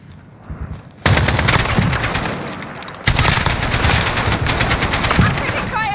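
Sustained automatic gunfire in the shooter Call of Duty Modern Warfare, survival mode: after a quiet second, loud rapid bursts of shots rattle close by almost without pause, briefly breaking before resuming.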